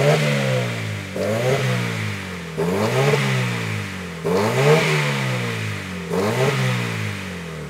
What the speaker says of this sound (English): now I'm going to manipulate the throttle this time